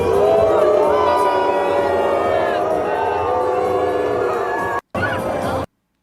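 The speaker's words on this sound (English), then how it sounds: "this was some of the reactions from the crowd in the rain, and you can hear this, boos, as the Israeli delegation makes its way down the Seine" A large crowd along the Seine in the rain boos the Israeli delegation as it passes, with sustained, loud, wavering jeers and howls blending into a continuous roar before cutting off abruptly.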